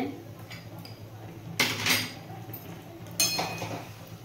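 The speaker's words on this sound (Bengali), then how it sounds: "চিনিটা দিয়ে নাড়িয়ে নিলাম" Sugar is stirred into sabu rasmalai in a pot: a metal spoon scrapes and clinks against the pot in two bursts of rapid stirring over a quiet background, close and without voices.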